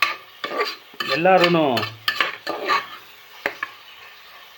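Cloves, black pepper and cumin roast in a pot while a spoon stirs them, giving scattered scrapes and clinks close up. A person speaks briefly with melodic intonation over the stirring.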